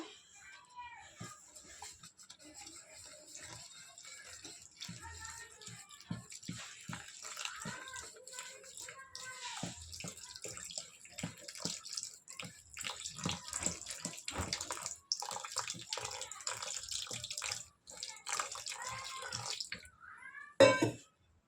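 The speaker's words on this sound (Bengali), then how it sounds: "এখন দিয়ে দেবো জল" Water poured from a jug into a bowl of mixed flour, rice flour and salt for a patishapta crepe batter, a soft, steady trickling and splashing that runs on for about twenty seconds, ending in a brief louder slosh.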